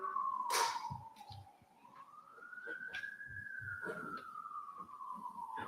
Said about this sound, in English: We hear ambulances and fire engines going by every day, many times during the day.